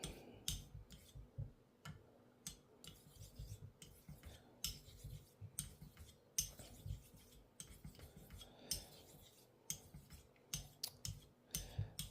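A German hollow grind straight razor is stroked under pressure across a honing stone, giving quiet, irregular scraping swishes and small ticks in quick succession.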